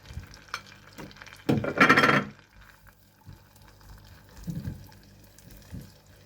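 Finely chopped onion drops into melted butter in a pan, setting off a loud burst of sizzle, then quieter frying with a few soft stirring clunks.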